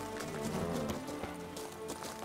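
Hooves of Geralt's horse Roach clopping in the video game The Witcher 3, a quick rhythmic run of hoofbeats over a busy, fairly faint game soundscape.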